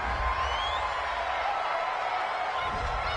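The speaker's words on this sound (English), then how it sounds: "This home crowd, they're happy with that call." Video-game stadium crowd from Madden 20 at a Saints at Panthers football game, a dense steady roar of cheering and applause from the home fans after a penalty call, loud and continuous throughout with no break.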